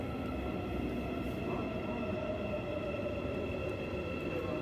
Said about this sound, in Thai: รอรถไฟฟ้ามาค่ะ